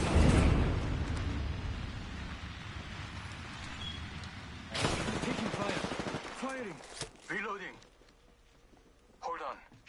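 Gunfire in the Apex Legends video game, dense rapid bursts loud at first, then scattered shots, mixed with game effects and synthetic voice callouts.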